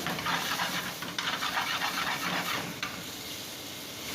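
Chicken keema frying on a high flame, a steady loud sizzle with busy stirring and scraping throughout, alone with no voices.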